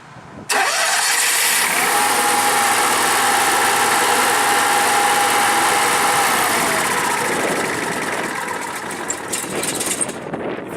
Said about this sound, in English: You're going to hold the button until the engine comes all the way on.